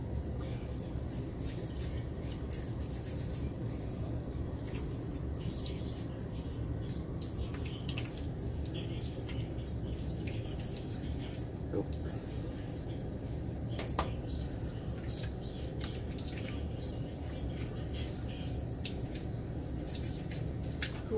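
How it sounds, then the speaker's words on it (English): Tap water runs and splashes in a bathroom sink as it is scooped onto a face before a straight-razor Kamisori shave, a steady close rushing with small drips and splashes throughout. "I need to put some water on my face here."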